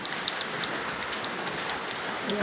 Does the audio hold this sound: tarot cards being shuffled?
no